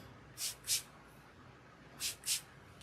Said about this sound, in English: Separate the locks and spray them like so.